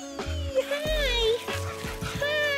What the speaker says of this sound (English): Whippet! Lots of Whippet!